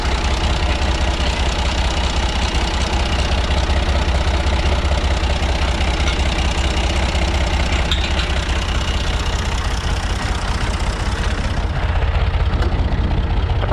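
A small Ford tractor engine runs steadily with a low, even chug while pushing hay in a barn, loud and close throughout with no talk.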